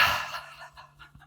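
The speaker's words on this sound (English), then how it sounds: "Breathing in and exhaling out." A person breathes deeply, drawing one long breath in and then letting it out in a few softer, uneven puffs, heard close up and alone.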